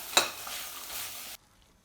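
A brief sizzle with a sharp scrape of a spoon stirring food in a hot pan, ending abruptly in silence.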